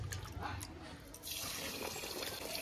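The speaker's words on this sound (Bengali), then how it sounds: "খুদে এবার আমি জল দিয়ে দেবো।" Water poured over broken rice for washing, a brief quiet splashing and trickling into a container.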